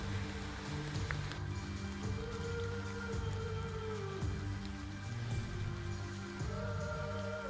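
Rain falling in a forest during a metal detecting outing, a dense steady patter close around, with low droning hum running beneath the whole time.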